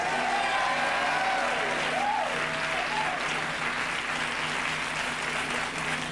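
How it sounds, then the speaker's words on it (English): A studio audience at a late-night talk show breaks into steady, full applause, loud and continuous, with a few voices calling out above the clapping. "people will applaud even when no joke has been made"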